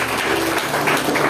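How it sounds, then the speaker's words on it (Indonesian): Church congregation clapping at an Indonesian sermon, a dense, steady patter of many hands filling the room at moderate level with no break. "Yang setuju tepuk tangan bagi Yesus."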